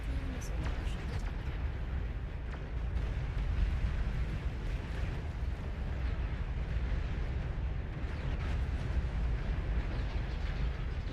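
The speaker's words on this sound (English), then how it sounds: "Nuclear missile launch detected." A nuclear missile launch in the real-time strategy game Beyond All Reason: a continuous, heavy roaring rumble with scattered crackles and pops, holding steady throughout while a voice talks over it.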